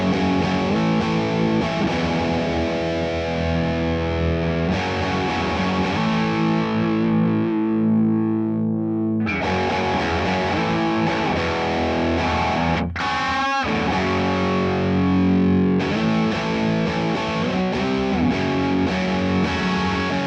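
An electric guitar plays through a Blackstar HT20 MKIII amp at mid gain with its ISF tone control being adjusted, producing loud, sustained, distorted chords and riffs with a brief pause and a quick scraping slide.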